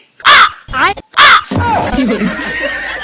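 A man imitates a crow with three harsh, loud caws, followed by softer chuckling and murmuring.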